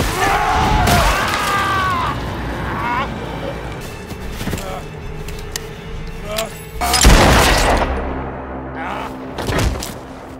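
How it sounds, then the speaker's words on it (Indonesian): In a film scene, gunshots ring out as an adamantium bullet is fired at X-24: sharp, booming bursts, one early and a louder pair near the end, mixed with score and other action noise under Indonesian narration. "Laura menembak X-24 dengan peluru adamantium yang diberikan Wolverine sebelumnya"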